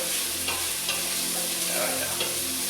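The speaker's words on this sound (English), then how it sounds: "Mixed in here, just release some of that garlic and the ginger." Garlic and ginger stir-frying in a pan for a vegetarian soup, a steady close sizzle with a few scraping stirs of the utensil against the pan, no voices.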